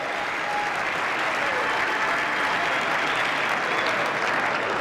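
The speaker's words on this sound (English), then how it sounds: "I don't know why we're clapping" A chamber full of people applauds steadily during a roll-call vote for House Speaker, a dense, even wash of clapping that holds for the whole stretch with no voices standing out.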